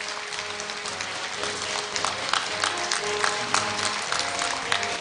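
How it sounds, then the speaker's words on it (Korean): An audience at Korea University's 109th graduation ceremony applauds in a hall, producing steady, dense clapping throughout with no break. "여러분 축하 박수 부탁드립니다"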